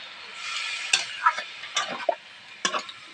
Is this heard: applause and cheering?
no